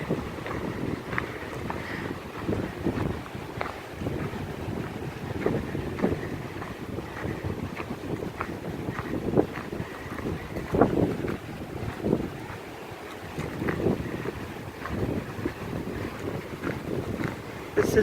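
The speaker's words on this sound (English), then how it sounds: "It's another windy day in the park" Steady gusty wind buffets the microphone with a constant low rumble and hiss during a windy walk in a beachside park, with no voices.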